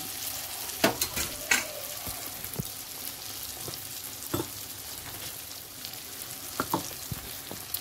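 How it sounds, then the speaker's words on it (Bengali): Onions sizzle quietly in a pan while a spatula scrapes and knocks against it in irregular strokes; no voices. "যতক্ষণ না কাঁচা গন্ধটা যাচ্ছে ততক্ষণ আমি ভালো করে নেড়ে চেড়ে ভেজে নেব"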